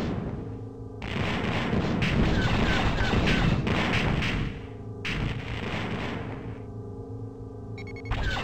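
Bursts of ship cannon fire from a fighter in Star Wars: TIE Fighter, shooting through a cargo container during a missile boat training mission; loud, sustained electronic blasts in several long runs with brief pauses between them.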